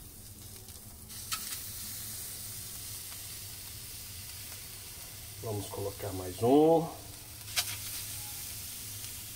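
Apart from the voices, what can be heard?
Denver steaks sizzling on a charcoal grill grate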